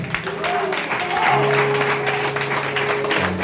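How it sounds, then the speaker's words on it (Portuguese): A church congregation applauding during a service, a sustained crowd of clapping hands mixed with held organ or keyboard tones and a few voices underneath. "Você pode aplaudir o Senhor por isso?"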